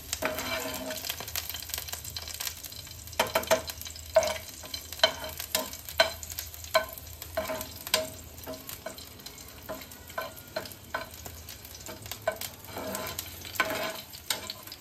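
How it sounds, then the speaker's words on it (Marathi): Green chillies and garlic fry in hot oil with a steady close sizzle, broken by repeated sharp scraping and tapping strokes as they are stirred in the pan for leafy greens chutney. "मिरच्या पांढऱ्या व्हायला लागलेल्या आहेत आणि लसूण आपल्याला गोल्डन ब्राऊन होईपर्यंत परतायचं आहे।"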